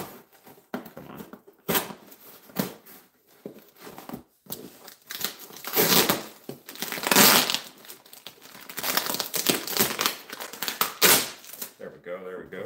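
A gift package is cut open and unwrapped, with bursts of tearing, crinkling and crumpling wrapping paper in irregular clusters, close by, while a person talks between and over the rustling.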